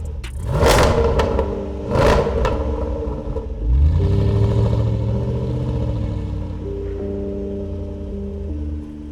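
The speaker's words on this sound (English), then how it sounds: "the 2015 Range Rover Sport SVR, the most outrageous supercharged V8 Range Rover ever" A 2015 Range Rover Sport SVR with a supercharged 5-litre V8 blips its throttle twice in loud, sharp revs, then settles into a rising, rumbling rev that holds and fades to a steady drone, close by with no talk.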